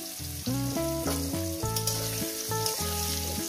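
Small pieces of potato fry in hot oil and ghee, a constant crackling sizzle that runs beneath louder melodic background music.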